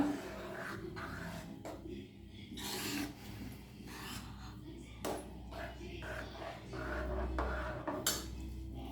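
A spoon scrapes and rubs around a pot of sesame payasam in uneven strokes. The stirring is close but faint, with a low hum beneath it.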